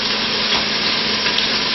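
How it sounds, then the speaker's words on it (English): Roast beef sizzling and browning in a hot pan, a steady close crackling hiss with no break and no voices. "So here, sizzle away, and later on I will get me fork so I can turn it over"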